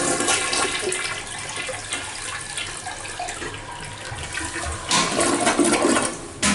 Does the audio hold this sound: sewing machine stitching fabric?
no